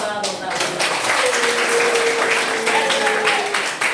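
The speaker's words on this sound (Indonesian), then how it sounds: "Oke, tepuk tangan." A crowd applauds with dense, sustained clapping, steady and fairly loud throughout, with a voice briefly audible underneath.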